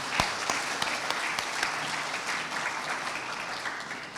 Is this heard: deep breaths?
no